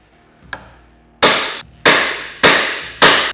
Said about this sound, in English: And we're gonna take our two hammers